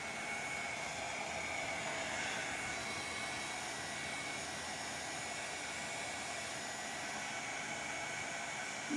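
A hair dryer blows steadily to dry paint on a plaque being decorated with stencil and acrylic plaster, its broad even airflow roar running continuously and close without pause.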